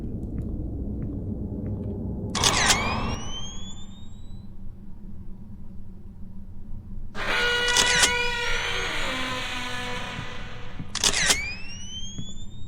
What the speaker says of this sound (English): Shutter.